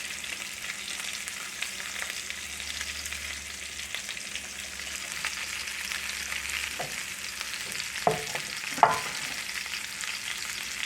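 Potatoes and sausage fry steadily in a pan with a constant close sizzle, broken by a couple of sharp utensil knocks near the end.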